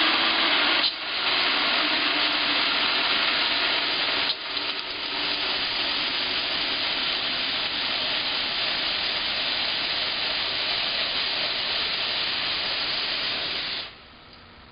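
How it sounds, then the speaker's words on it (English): Steady pressurised hiss of air being bled from a water hose during a water-side system check, loud and continuous for about fourteen seconds with two brief dips before cutting off. "So I'm going to go ahead and bleed the hose."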